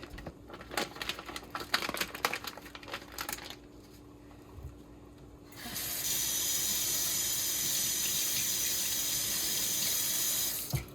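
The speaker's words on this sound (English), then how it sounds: "I just rinse off the plastic." A plastic packet of corned beef is handled and rinsed at a sink: crinkly rustling first, a short lull, then a steady loud rush of running tap water that continues to the end.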